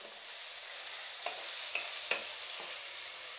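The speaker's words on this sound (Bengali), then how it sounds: "আবারও এটা একটু কষে নেব।" Onion and chopped tomato for mutton liver curry frying in a pan under a steady, fairly quiet sizzle, with four light scraping strokes of a spatula spaced about half a second apart.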